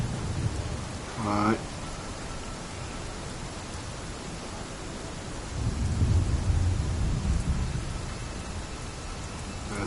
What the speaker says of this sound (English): I see the rain hitting my character